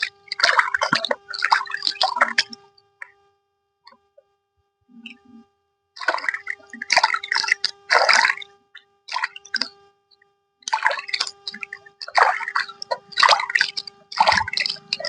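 Water splashes and drips as face pack is rinsed off hands and face, in several bursts of wet splattering separated by short pauses, close and moderately loud.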